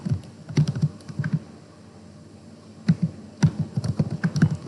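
Typing on a computer keyboard comes in quick bursts of close, crisp key taps. There is a quiet pause in the middle before the clicking picks up again, and nobody speaks.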